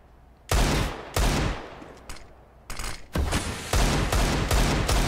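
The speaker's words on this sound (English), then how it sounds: "Few Deagle shots." Desert Eagle pistol shots in a CS:GO match, a series of sharp, loud, echoing cracks spaced irregularly and then coming in quicker succession, with no talk over them.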